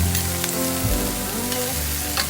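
Lo mein noodles sizzle and crackle in a hot pan as they are stirred, a steady loud frying hiss with scraping stirs, close and alone without talk.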